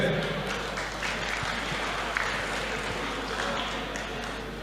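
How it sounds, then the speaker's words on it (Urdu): An audience at a poetry gathering in Karachi claps for a poet, steady broadband applause under a low constant hum, with faint voices mixed into the crowd noise. "بھرپور تالیاں ایک بار پھر۔"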